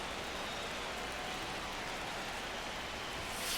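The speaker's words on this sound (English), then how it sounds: "This rain is not letting up" Rain pours steadily at a baseball game, a broad, even hiss of falling water that holds constant and fairly loud throughout with no voices over it.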